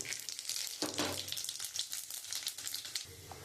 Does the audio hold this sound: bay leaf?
yes